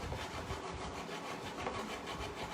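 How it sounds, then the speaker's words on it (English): A whisk works mango pulp into a dessert mixture in a bowl, making soft, steady, rhythmic scraping strokes close by. "Now I'm going to just mix in all this beautiful mango pulp that you see here, whisk it in"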